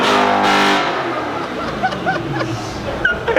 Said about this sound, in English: when you turn it into sport mode or track mode, it actually opens up the exhaust valves and it gets a little louder